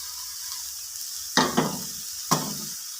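Tomatoes and masala powders being stirred and sautéed in a pan, with a soft steady sizzle broken by a few distinct scraping stir strokes near and fairly quiet.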